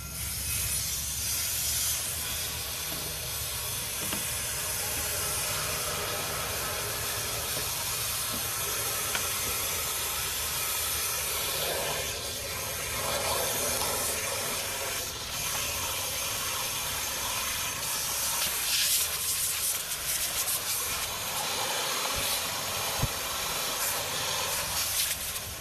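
Steady, loud hiss of water rushing under pressure while a car's engine block cooling system is flushed during an antifreeze change, a continuous spray that shifts slightly in texture over about twenty-five seconds.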